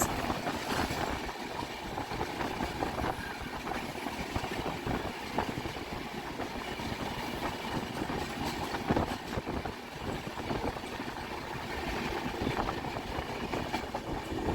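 Darjeeling Mail passenger train running on rails between Sealdah and New Jalpaiguri, a continuous rumbling roll with rhythmic clickety-clack of wheels heard from inside, steady and moderately loud without talk.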